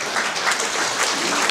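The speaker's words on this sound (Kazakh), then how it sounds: "Сіздер шапалақ ұрыңыздар." A crowd at a parodist's stage show claps steadily in a dense, even wash of applause, loud and without talk.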